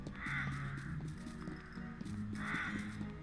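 Birds caw in the video game Rune Factory 5, two harsh, drawn-out calls spaced a couple of seconds apart over soft game music, with no one talking.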